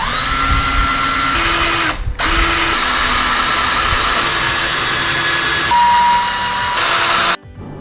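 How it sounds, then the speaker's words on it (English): Power drill boring holes into the frame of a crypto mining rig, a loud continuous whine with brief pauses and pitch shifts as the bit bites, heard up close with no talking. "the drilling part."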